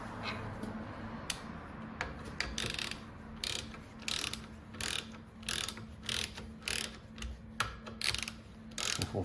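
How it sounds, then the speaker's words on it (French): Ratchet wrench tightening bolts on a 511 ci (8.4 L) V8 engine, sounding as repeated short bursts of close, crisp clicking strokes with brief pauses between them. "On remet les boulons."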